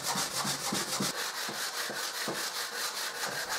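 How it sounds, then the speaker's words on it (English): Medium grit sandpaper rubs back and forth over a wooden display cabinet in quick, even strokes, a close, continuous gritty rasp with a regular rhythm. "I sand it with medium grit sandpaper"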